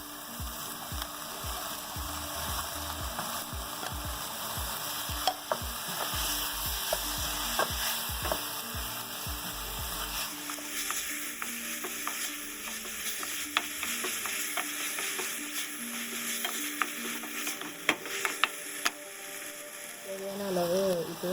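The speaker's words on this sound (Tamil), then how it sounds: "இப்போ தக்காளி போட்டுடலாம்." Tomatoes go into a pan of onions for a broad bean curry and are stirred while frying, with a loud sizzle and scraping strokes for the first half, then a quieter simmering sizzle with occasional light clinks of the spoon.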